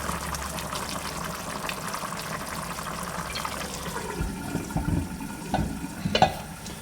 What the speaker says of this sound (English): The next thing you'll see, of course, is the olive oil going in.